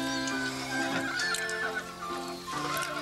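Horses neighing in a rural setting, with a couple of whinnies over a dense steady background, moderately loud and close, no talk.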